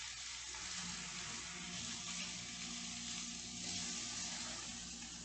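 Pierogis browning in a pan with cabbage and caraway, a faint, steady hiss of frying that continues evenly throughout without any pauses.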